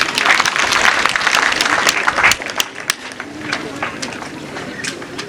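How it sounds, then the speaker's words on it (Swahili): Applause from a school parents' day audience, a dense burst of clapping that swells then gradually thins and fades, with crowd voices mixed in. "Si munipigie makofi?"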